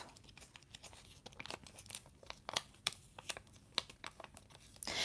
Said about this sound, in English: I'm just going to burnish it a little bit with my fingers and pull my transfer tape off